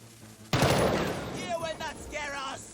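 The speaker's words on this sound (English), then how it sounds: "We're getting all shot up! Did you consider maybe trying to shoot back?" A sudden burst of gunfire erupts in the video game Jagged Alliance 3, a dense crackling volley followed by a voice shouting over the fading shots.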